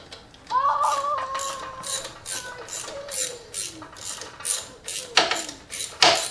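Ratchet wrench loosening a single bolt on the sensor and brake line bracket of a Lexus ES300 during rear motor mount work, a series of close clicking ratchet strokes with squeaky bursts, no talk.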